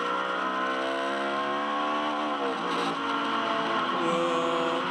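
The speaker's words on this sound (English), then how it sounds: "That to me sounds like a bit of a gearbox issue" A Ferrari GT race car with a gearbox issue at a street circuit race, its engine loud and close with a strained, wavering high-pitched note that drops as the revs fall and then climbs again.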